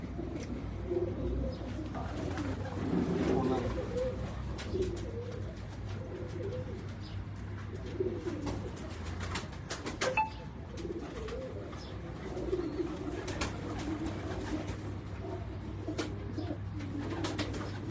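Pigeons kept by a fancier coo repeatedly in low, rolling calls. They carry on softly and continuously, with occasional faint chirps and background rustling.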